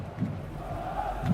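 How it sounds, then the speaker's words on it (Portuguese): A stadium crowd at Morumbi roars after a goal in a Corinthians match, a broad, sustained swell of distant shouting and cheering with no clear single voice. "A explosão do Morumbi, da torcida que ali acompanhava a partida"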